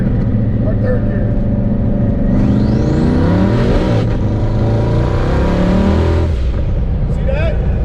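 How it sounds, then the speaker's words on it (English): A car with a faceplated Tremec manual transmission accelerates hard through the gears with no-lift shifts. The engine rev rises loud and close, drops with a brief dip at each clutch stab, then climbs again. "I can just no-lift shift this, pin to the floor, stab the clutch, stab the clutch, stab the clutch."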